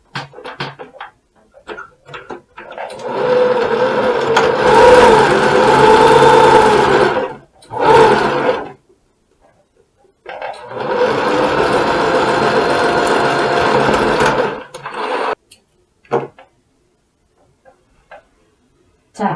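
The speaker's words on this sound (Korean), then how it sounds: "자, 이렇게 해서 1cm 양쪽 어깨에 다 박아줍니다." A sewing machine stitches the shoulder seams of a round-collar dress in two long close bursts of rapid rattling with a short run between them, followed by faint handling clicks in the quiet stretches.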